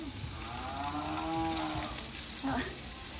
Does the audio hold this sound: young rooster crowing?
no